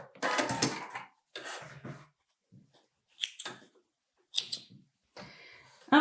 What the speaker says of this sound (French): Donc, ma machine est réglée sur le point zigzag.